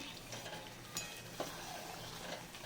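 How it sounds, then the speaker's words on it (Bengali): Chicken is sautéed and stirred in a pan, giving a faint, steady sizzle with a couple of soft utensil clinks and scrapes; quiet and without voices. "এখানে চিকেন কষা হচ্ছে"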